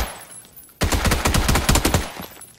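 Gunfire in the video game PUBG: after a quiet start, a loud burst of rapid shots rings out, a dense crackling volley running for well over a second before trailing off.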